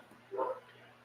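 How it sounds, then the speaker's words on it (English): A single short dog bark or yip, moderately loud and fairly close, heard indoors in an otherwise quiet room. "Why is Buddha barking?"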